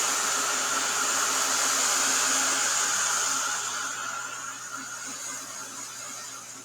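A hair dryer blows steadily to dry paint on a painting of snow bells, a close, continuous whirring hiss that holds constant and then eases slightly lower toward the end.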